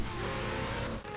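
A car engine revs steadily while drifting in the video game CarX Street, a short, continuous close mechanical roar that dips briefly near the end.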